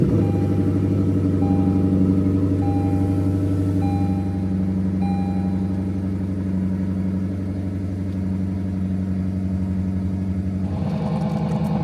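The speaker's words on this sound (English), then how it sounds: "Ready for a cold start?" A Lexus LC500 V8 engine idles steadily and loud after a cold start, with a high fast idle that holds for about eleven seconds before the tone shifts near the end.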